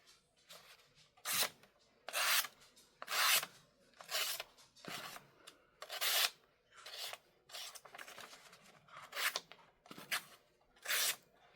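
A sharp Flissa knife with a slide lock shaves fine slices off a paper notepad, about a dozen crisp rasping strokes in a steady rhythm, close and clear with no talk.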